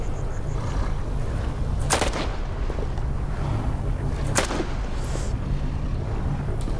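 A 9mm handgun fires in S.T.A.L.K.E.R. 2 with two sharp, isolated shots several seconds apart, standing out over a constant low rumbling background.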